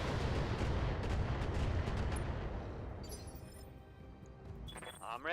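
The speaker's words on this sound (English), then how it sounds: "now we can just start firing on the Vindicator" Mech weapons in the BattleTech video game fire on an enemy Vindicator, a heavy rumbling barrage of cannon blasts and impacts that fades into debris and clatter. A voice talks over it.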